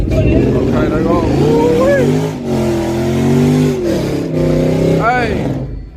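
A 4-cylinder race car accelerates loudly and close, its engine note rising and falling through several revving pulls and gear changes, with a pause near the middle before it climbs again.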